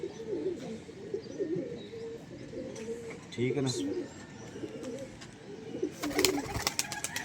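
Pigeons coo softly in repeated low calls on a rooftop loft in Lahore, with scattered chirps and a burst of fluttering near the end, while people talk nearby.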